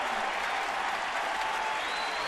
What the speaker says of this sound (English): He'll get his usual round of applause.